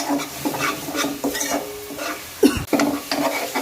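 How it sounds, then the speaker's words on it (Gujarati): Chole chana masala spices roasting in a pan while being stirred, a soft continuous sizzle broken by repeated scraping strokes of a spoon, close and fairly quiet with no talk. "છોલે ચણાનો મસાલો લીધો છે એ નાખી દઈશું અને આને ફરી આપણે સરસ સારી રીતના શેકી લઈએ"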